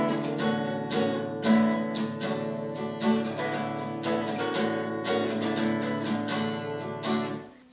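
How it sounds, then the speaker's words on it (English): Acoustic guitar played in a beginner's original strumming pattern, steady rhythmic down-and-up strokes ringing full chords, close and loud with no talking until it stops. "This is the original strumming pattern."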